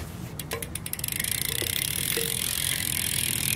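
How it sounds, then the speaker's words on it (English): Rapid, steady ticking from a bicycle hub modified to be louder, a dense freewheel rattle that grows more even as the wheel spins, close to the listener with no talking. "Here's the hub sound."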